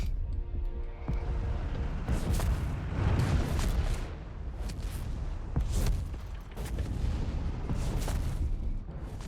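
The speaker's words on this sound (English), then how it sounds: "Artillery called in here." Artillery fire in Company of Heroes 3, a World War II strategy game, repeated booming impacts and blasts over a continuous rumble of battle, several heavy hits spaced a second or two apart.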